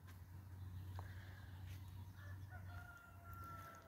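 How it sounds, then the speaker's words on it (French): Roosters crow at a distance in Spain over a low, steady hum, their calls overlapping in drawn-out cries. "Le chant des coqs, ça change un peu"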